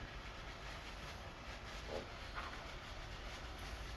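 A steady low rumble of train wheels rolling along the rails, continuous and fairly faint, with a soft hiss above it and no voices.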